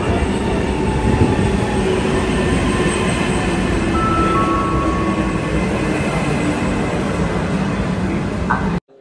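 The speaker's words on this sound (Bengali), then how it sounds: "অনেকক্ষণ ওয়েট করার পরে ট্রেনটা এসে পড়ছে" A train pulls into Manarola station on Italy's Cinque Terre coast with a steady loud rumble of rolling carriages and a faint high wheel whine, lasting several seconds with no voices.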